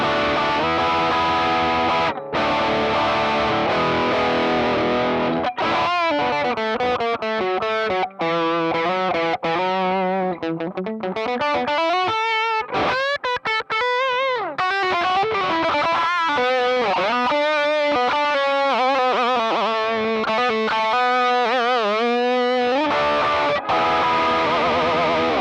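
Electric guitar lead played through two stacked overdrive pedals, with sustained distorted notes, bends and sliding melodic phrases, loud and continuous with brief pauses near the start.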